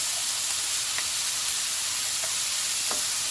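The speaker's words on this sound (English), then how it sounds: "So I first break up the meat with a wooden spoon." Raw ground meat sizzling and frying in a pan, with a steady loud hiss throughout and a few faint knocks of a wooden spoon breaking it up, close and without talk.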